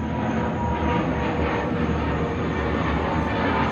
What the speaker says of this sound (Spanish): ¿Ustedes escuchan los aviones que pasan aquí?